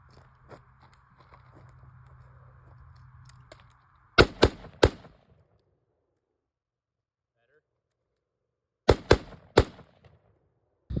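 Rifle shots fired through an LPVO during a Mozambique drill: a quick burst of three sharp cracks, silence, then another group of three, preceded by a low mechanical hum and faint handling noises.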